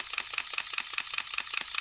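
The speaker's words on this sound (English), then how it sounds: "there's a physical moving of the shutter that's happening. You can hear it and you can feel it." Rapid burst of Sony a9 shutter clicks in continuous high shooting mode, a steady quick rhythm of about four sharp, close mechanical snaps per second with no voices.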